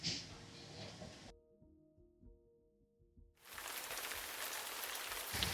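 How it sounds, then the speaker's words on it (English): Heavy rain pouring down in Vietnam, a dense hiss of drops on surfaces that cuts out briefly midway, leaving only a faint quiet gap, then returns just as strong. "it's bucketing with rain"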